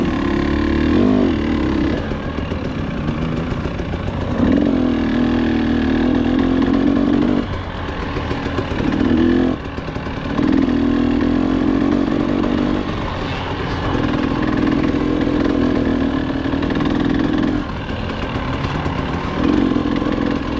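Dirt bike motorcycles on a night ride of Swany's Loop, working up a rocky hill climb: loud, close engine drone that surges and holds in long revving stretches, broken by brief drops as the throttle is eased.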